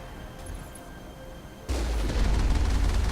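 A sniper rifle shot aimed at a turret in the video game Mass Effect: a loud, sudden boom that breaks a quiet stretch, followed by a dense, rumbling roar that sustains to the end.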